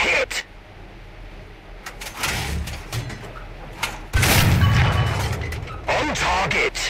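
Tank cannon shots and shell impacts in War Thunder, with several sharp booming blasts and crashes, one loud heavy burst in the middle followed by rumbling, and a voice talking over parts of it.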